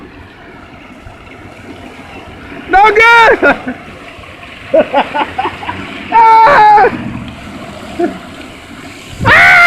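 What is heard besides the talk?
water gushing from a burst water main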